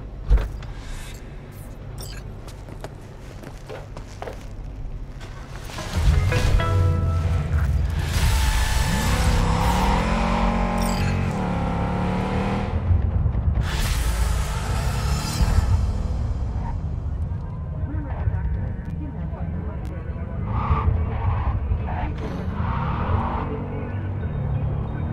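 Vehicle mechanisms in Cyberpunk 2077, with a motor whirring, doors and parts moving, then an engine rising and shifting in pitch as the car starts driving, loud and close over game ambience.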